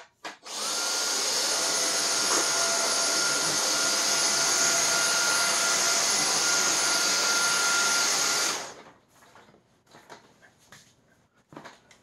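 A Dyson DC35 cordless vacuum cleaner picks up sand from carpet with a loud, steady high-pitched whir that runs for about eight seconds, then stops, leaving faint handling knocks.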